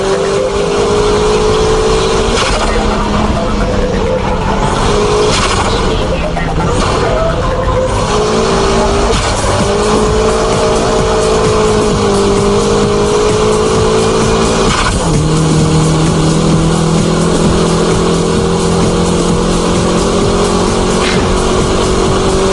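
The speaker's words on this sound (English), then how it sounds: "This is the ultimate style of drifting, high-speed drifting." A car drifting at high speed, engine howling steadily with long tire squeal running throughout, loud and continuous with shifting pitch as the slide holds.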